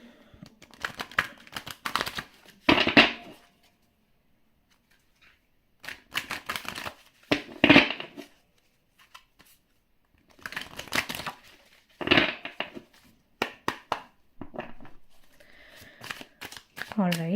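Tarot cards shuffled and laid out on a surface: bursts of close riffling and flicking in several separate rounds with short silent gaps between them.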